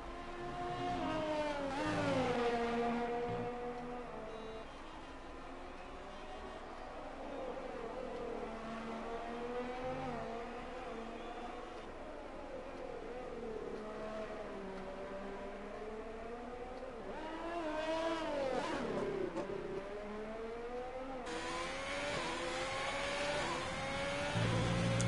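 Formula race car engine on a hot lap at the Hungarian Grand Prix in a racing video game, a steady high whine that rises and falls with gear changes, revving hard near the start and again late on.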